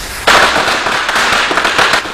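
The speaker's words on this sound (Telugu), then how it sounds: "దీపావళి కాదు కానీ క్రాకర్స్ పేలుతున్నాయి." Firecrackers set off by children in a residential colony, a sudden loud burst followed by a crackling run of rapid pops and bangs, close and alone without talk.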